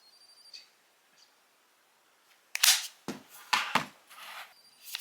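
An Anker MagSafe battery pack chirping as it attaches to a phone: a few short, sharp, bright clicks and chirps in a quiet room, clustered together after a near-silent start.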